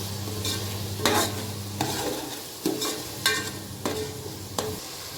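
Fenugreek leaves frying in a pan are stirred with regular scraping strokes roughly every two-thirds of a second over a faint, steady sizzle, close and without talk.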